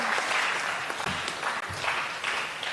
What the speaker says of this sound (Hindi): दोनों हाथ ऊपर उठाइए और इन्हें तालियों में तब्दील कीजिए